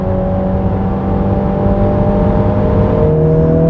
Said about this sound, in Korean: 스포츠 모드에선 열리며 좀 더 두터운 이런 배기음을 선사해주고 있습니다